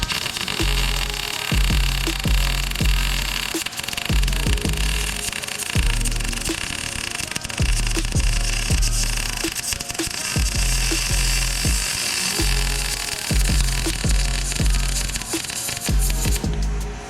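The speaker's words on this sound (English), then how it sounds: "And I'm gonna go ahead and weld this first side." Metal is welded for a CFMOTO 600 custom lift kit, the welder crackling in repeated short bursts with brief pauses between passes, loud and close with no talking.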